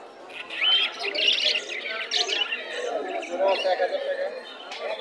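Small birds chirp and tweet in a bustling bird market at Mirpur 1, repeated bright calls overlapping with busy crowd chatter and people talking nearby.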